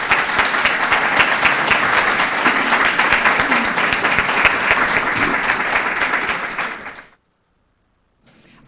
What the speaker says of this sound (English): Could we please have a big round of applause for your candidates?